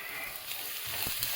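Half an onion and grated carrot sizzle steadily in a hot pan, a close crackling hiss with a couple of soft scraping stirs near the end.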